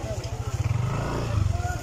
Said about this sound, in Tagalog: Malubong pa itong motor.